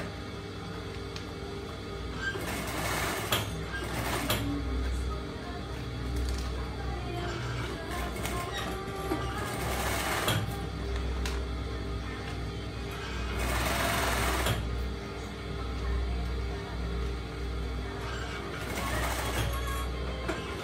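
A sewing machine stitching the edge of a transparent face mask runs in steady, even whirring bursts of several seconds each, close and fairly quiet, with brief pauses between runs.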